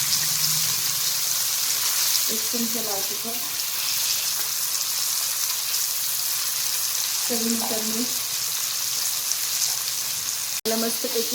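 Tempering spices fry in a little hot oil, giving a steady close sizzle and crackle throughout, with a couple of brief faint voice-like murmurs and a sharp click near the end.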